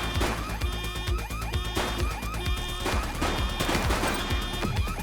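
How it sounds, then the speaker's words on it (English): Rapid gunfire in the police sim video game The Precinct during a shootout in an alleyway, loud dense volleys of shots cracking one after another with crashing impacts, no talking over them. "She's shooting!"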